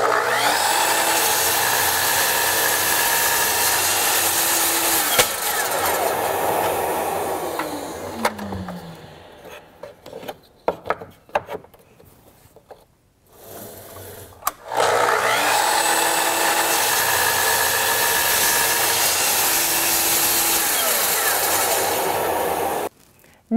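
Power saw slicing batches of wenge wood sticks into plugs, a loud steady whine that fades as the blade stops midway, a few knocks and clicks in the lull, then the cutting roar resumes at full strength.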